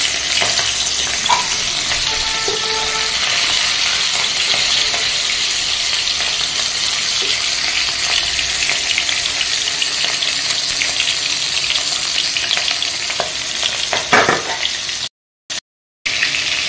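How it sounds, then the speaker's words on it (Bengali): Four large hilsa fish heads sizzle steadily in hot oil, a loud, continuous crackling fry with occasional faint clinks, cutting out briefly near the end. "আমি চারটে বড় মাছের মাথা দিয়েছি, এটা একটু ভেজে নিয়ে তারপর মশলাটা করছো।"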